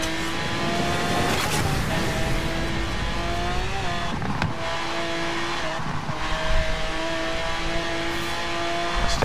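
In Forza Horizon, a car's engine revs high and steady while its tires spin and squeal for traction, with brief bursts of skidding, loud and close throughout, and no voices.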